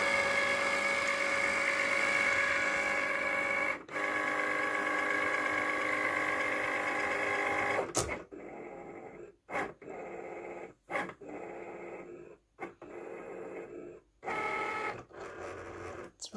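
A Cricut cutting machine reading register marks for planner stickers, a steady mechanical whir and drone for several seconds, then choppy stop-start motor bursts separated by short silences, close and moderately loud.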